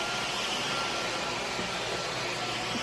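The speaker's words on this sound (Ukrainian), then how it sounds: "купив дуже класний пилосос" A newly bought household vacuum cleaner runs steadily, a loud continuous whooshing roar with a high whine that holds constant throughout, close by and with no talk.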